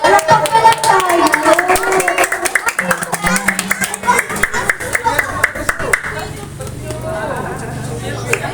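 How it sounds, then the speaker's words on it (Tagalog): Audience clapping at a church Bible school graduation, a rhythmic run of many hand claps beneath people talking, steady and close throughout. "Palakpak pala tayo."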